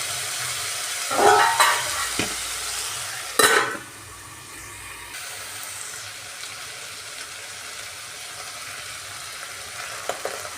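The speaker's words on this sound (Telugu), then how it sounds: "మూడు నిమిషాలు బాగా వేగించామండి" Masala paste fries in oil for a flat bean and egg curry, with two loud bursts of sizzling and scraping as it is stirred, then a quieter steady frying hiss.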